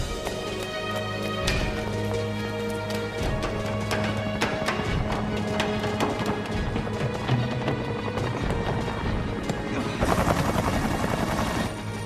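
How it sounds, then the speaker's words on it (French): A helicopter's loud, steady drone runs throughout the tense scene, mixed with tonal layers, dull thuds and a brief louder surge near the end. "L'hélicoptère."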